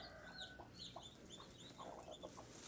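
Native country chicks cheep in repeated high, thin peeps while a hen clucks softly underneath, a steady close chorus of chirps with no talking.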